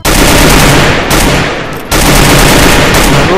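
Loud, close automatic gunfire in the Free Fire video game, a dense rapid burst that dips briefly before resuming at full intensity, with no talking.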